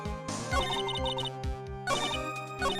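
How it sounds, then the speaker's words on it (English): Phone ringtone playing a repeating melodic pattern in two quick bursts, moderately loud and heard alone. "Sorry, my phone rang."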